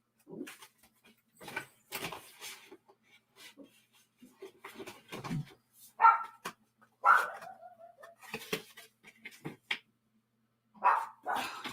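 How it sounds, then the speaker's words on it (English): Dogs bark in scattered bursts, several sharp yelps and barks at moderate distance, with quiet gaps between them. "there go the dogs barking again"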